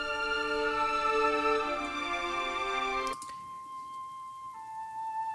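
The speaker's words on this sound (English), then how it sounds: "specifically the flute, I'd love to layer with the violins. So that kind of sounds like this." A flute and violins play together in a Broadway-style orchestral arrangement, holding soft sustained chords with a gentle melody line before the texture thins to a single held tone.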